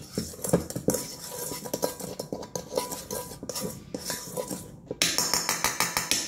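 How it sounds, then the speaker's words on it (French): A spoon working chocolate through a dough mixture in a bowl for gluten-free, egg-free vanilla chocolate Christmas shortbread, with uneven scraping and clinking strokes, getting faster and brighter near the end, close and with no voices. "Donc notre chocolat, tout ça, on le mélange."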